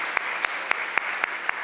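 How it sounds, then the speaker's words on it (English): Steady applause from an audience at a book event, with a dense wash of clapping and a few sharper individual claps standing out at regular intervals, holding even throughout. "A round of applause."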